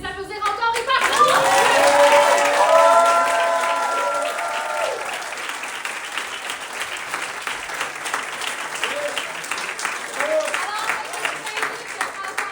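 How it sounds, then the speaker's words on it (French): Audience applause at a live event bursts in loudly, swells for a few seconds, then settles into steady sustained clapping, with voices and a few shouts rising over it. "S'il vous plaît, on peut les applaudir encore et partout!"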